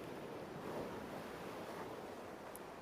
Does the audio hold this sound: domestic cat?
no